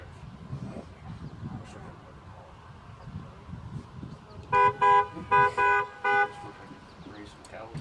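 A car horn honks in a driveway in a rapid run of five short, loud blasts, one after another, standing out sharply over steady background noise and faint talk.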